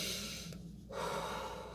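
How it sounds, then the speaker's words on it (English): Slow, deep breath drawn in and let out close to the microphone, a soft airy rush with a short quiet gap between inhale and exhale. "just take really deep breaths"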